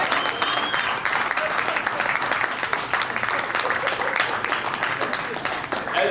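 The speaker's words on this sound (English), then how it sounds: "Going to get a round of applause for the groom and the bride." Wedding reception guests break into sustained, dense applause for the bride and groom, a steady crowd clapping that fills the room with a faint voice or two underneath.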